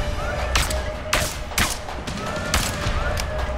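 Gunfire from A Way Out: several sharp, loud shots crack out at irregular intervals over a steady background din, with no talking.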